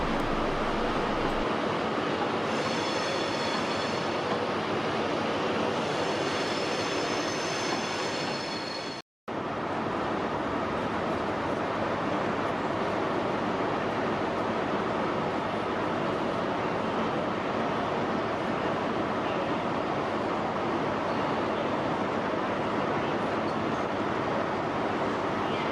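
The Midland Pullman train idles at Carlisle station, a continuous loud rumble and hiss of the stationary train with a brief dropout partway through and no talking.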